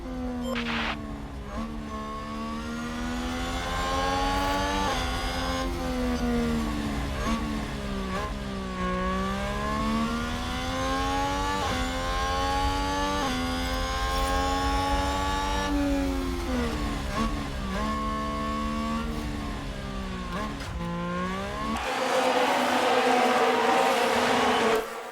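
Formula 1 race cars from the F1 Manager 2022 game whine past in a continuous, loud engine roar with rising and falling pitch as they accelerate and shift, ending in a brief burst of broadband noise.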